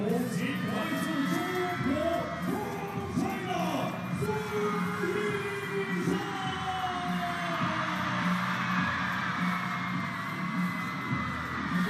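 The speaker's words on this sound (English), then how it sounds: "listen to the roar of the crowd" A packed table tennis arena crowd at a women's singles match, a continuous roar of murmuring and shouting voices that stays at a steady level throughout.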